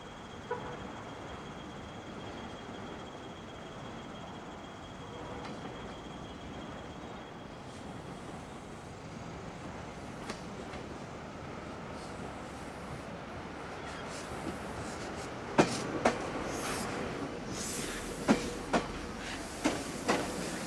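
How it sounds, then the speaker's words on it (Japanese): A Meitetsu 3500 series electric train pulls into Meitetsu Gifu station, a low steady rumble building slowly with faint clatter and sharp squeals or clanks of wheels and brakes toward the end, heard from the platform. "まもなく1番線に電車が参ります。"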